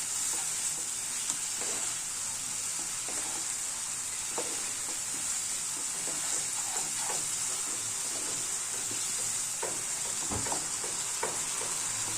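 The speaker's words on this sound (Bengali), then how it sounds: "এবার দিলাম নুন, মিষ্টি, ভালো করে কষে নিই।" Jackfruit kofta curry masala stir-fried in a pan with salt and sugar, giving a steady close sizzle with scattered spoon scrapes and stirring knocks throughout.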